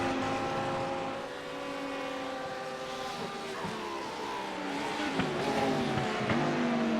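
Porsche race cars in a Daytona league race on a racing simulator, several engines howling together with rising and falling pitch as they shift and corner, loud and close throughout with a brief tire scrub.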